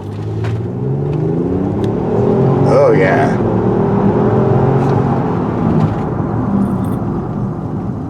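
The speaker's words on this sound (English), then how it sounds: "Just floor it and go." A 2016 Ford Explorer Platinum 4x4 engine pulling hard at full throttle, a loud rising in-cabin roar and whir sustained throughout, with a short spoken exclamation partway through.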